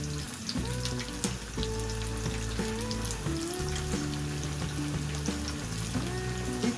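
Four chicken pieces fry in hot oil with a continuous crackling sizzle, heard alongside sustained tonal sounds in the background.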